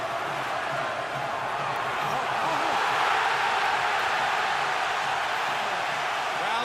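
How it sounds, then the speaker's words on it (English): A boxing arena crowd at the Floyd Mayweather versus Ricky Hatton fight roars in a broad, sustained swell of cheering that stays loud and continuous, with indistinct voices buried in the noise. "Crowd thunders its appreciation"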